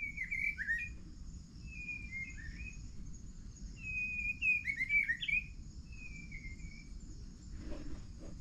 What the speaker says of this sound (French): on entend les oiseaux qui sont en train de se raconter leur vie.